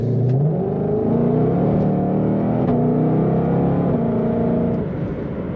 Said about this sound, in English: Very snappy exhaust note on this car